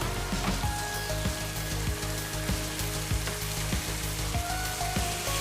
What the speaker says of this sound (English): We're going to brown the meat on each side.